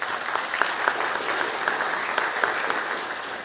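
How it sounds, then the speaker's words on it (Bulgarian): An audience at a ceremonial program applauds its guests and hosts, steady crowd clapping with crisp individual claps standing out, filling the hall evenly for a few seconds with no voices heard. "Да поздравим с аплодисменти нашите гости и домакини."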